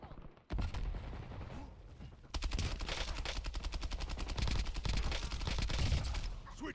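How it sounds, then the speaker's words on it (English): Rapid bursts of automatic gunfire in a military shooter video game, a dense crackling volley that starts after a brief quiet and then runs almost continuously and loudly to the end. "Taking effective fire."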